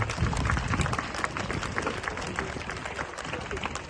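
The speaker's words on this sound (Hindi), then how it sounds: "एक बार जोरदार उनके लिए ताली बजा दीजिए" An audience at a children's academy event applauds in a dense, steady patter of many hands, filling the room at moderate loudness throughout.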